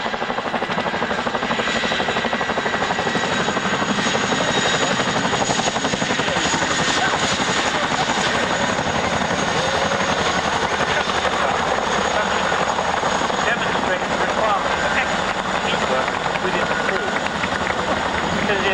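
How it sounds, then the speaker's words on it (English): A Chinook helicopter making a running landing at an Army Air Corps airshow, a loud continuous rotor and engine roar close by throughout, with voices under it. "Chinook can perform a running landing."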